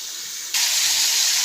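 Water poured onto ridge gourd cooking in a hot pan, a sudden loud hiss that jumps up halfway through and holds steady to the end.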